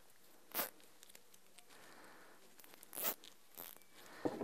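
A plastic zip tie is pulled tight around a bundle of flowers, giving a few short, sharp ratcheting zips at close range with quiet pauses between them.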